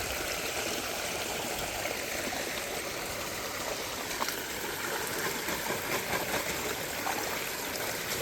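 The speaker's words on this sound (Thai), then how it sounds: "น้ำไหลอยู่น้ำไหลอยู่" Steady flowing stream water at fish traps after heavy overnight rain, a continuous broadband babble with small gurgles and splashes, close by and fairly constant throughout.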